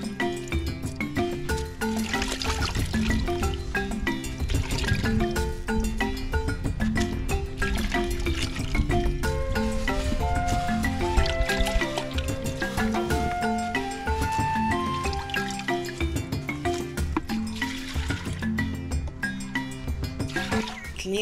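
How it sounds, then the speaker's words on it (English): Mushrooms being washed by hand in water for a Ghanaian village kontomire stew, steady sloshing, splashing and trickling close up, continuous for the whole stretch. "we start to wash the mushrooms."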